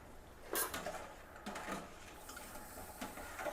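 Spoon stirring rice in a cooking pot for biryani-style chicken mandi, with scattered scraping and clinking knocks at an uneven pace, faint and close.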